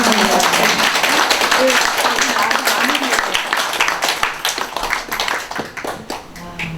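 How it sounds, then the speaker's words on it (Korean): An audience at a talk gives applause, quick clapping that starts strong and thins out toward the end, with a voice talking over it partway through. "박수 좀 부탁드립니다"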